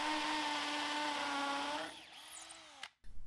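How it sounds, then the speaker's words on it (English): A loud hammer drill whines steadily, then its pitch drops and rattles as hammer mode bites into breeze block before cutting off abruptly. "you can really hear that hammer mode kicking in"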